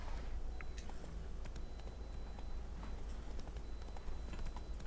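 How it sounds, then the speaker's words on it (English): Horse galloping in the Witcher 3 Blood and Wine game, a fast steady clip-clop of hooves over a low rumbling bed of ambience, moderately faint and without talking. "The way your horse is running?"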